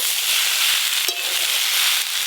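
Fried prawns meet a mustard-chili paste in a hot pan with oil, giving a continuous bright sizzle that swells briefly as they land and keeps crackling steadily without pause.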